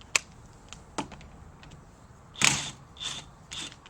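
A ratchet wrench clicks in short bursts as a 19mm bolt comes out of a Yamaha TZR50 motorcycle, close up with sharp ticks and a quick run of ratcheting.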